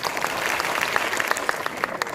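Audience applause for a guest introduced on stage at a direct-selling event, steady clapping from many hands with scattered sharper claps throughout, moderately loud and close, no voices over it.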